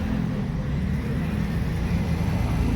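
A BMW rolls in at a car meet, its engine a steady low rumble close by, with faint crowd murmur underneath.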